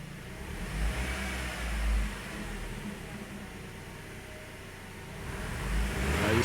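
A Chevrolet Optra 1.8 engine with a P300 misfire and loss of acceleration runs steadily in a loud, rough drone, with low rumbling swells as it revs near the microphone.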